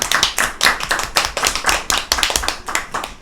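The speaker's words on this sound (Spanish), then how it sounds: "Un aplauso," Close, steady applause from a small audience, with dense overlapping claps that keep an even intensity throughout.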